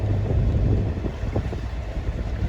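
Steady wind buffets a boat at sea, around 10 knots on a hot day, as a continuous low rushing roar close to the microphone.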